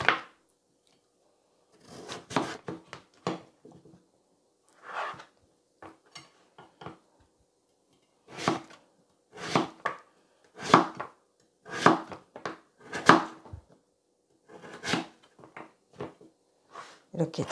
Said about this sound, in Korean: 요거를 잘게 썰어 주세요